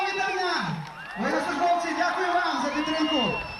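A concert audience cheers and applauds for the soldiers of a military unit: a steady, dense crowd roar with rising whoops and shouted voices running throughout.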